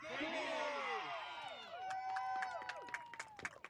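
Kids from rookie baseball teams, Phillies and White Sox, yell a loud group cheer together at a championship final, a burst of many young voices that trails off into scattered whoops and claps.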